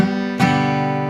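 Muted acoustic guitar strumming with the strings deadened by relaxed fingers, giving a single dull percussive chuck followed by a short ringing strum, played alone and close.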